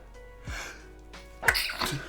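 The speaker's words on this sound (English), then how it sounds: "Sounds like a space pistol, doesn't it? When you sneeze." A person sneezing indoors during a live game stream, a couple of short sharp nasal bursts with a brief inhale, close and moderately loud, the last one sharper and brighter than the earlier ones.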